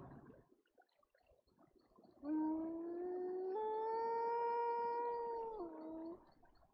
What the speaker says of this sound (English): I hear a wolf